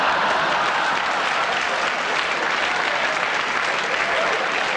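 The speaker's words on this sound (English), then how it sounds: "Bit of a round of applause there." Studio audience applause at a 1986 Comic Relief broadcast, a dense, even wash of clapping held steadily for several seconds with no voices over it.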